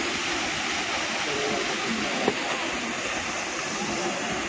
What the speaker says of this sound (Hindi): देखें कितना बढ़िया सुंदर झरना है और ये कुंड है